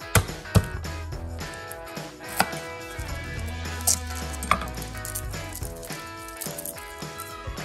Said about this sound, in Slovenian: Česen drobno narežemo.